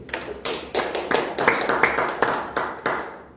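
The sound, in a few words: audience clapping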